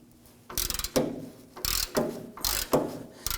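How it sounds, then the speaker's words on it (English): A ratchet spinning off a bolt on a Ford F-150, close and clear, with quick bursts of rapid clicking separated by short pauses as the handle swings back and forth. "once that's free, I'm gonna switch over to my ratchet."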